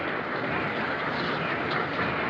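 A train at a railway station platform in a 1942 wartime film, a steady, loud rumbling roar of rolling stock with faint clatter and no break.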